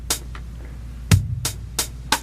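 A small drum machine plays evenly spaced eighth-note triplets, with sharp, bright hits and a deeper bass drum on the beat, close and clear with no talking.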